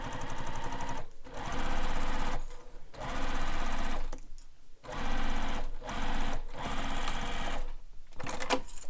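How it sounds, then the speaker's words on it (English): A sewing machine stitches along a fabric edge for a wallet, running in several loud bursts of fast rhythmic needle chatter split by short pauses. "And then stitch along that edge."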